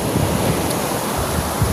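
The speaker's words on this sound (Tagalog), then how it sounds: "Sobrang lakas ng hangin at sobrang lalaki ng alon" Strong wind and big sea waves make a steady, loud roar of surf and rushing air, continuous and close, with no voices.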